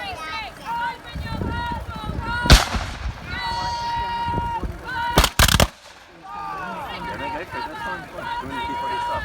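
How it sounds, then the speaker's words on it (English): Cannon fire at an English Civil War re-enactment, with a couple of sharp booming blasts, one around the middle and a close double report a few seconds later, heard over continuous commentary and crowd noise. "Certainly the cannon are still firing"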